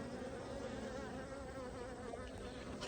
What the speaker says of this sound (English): It's not really going into that hive, but they're just dancing right here on the front of it.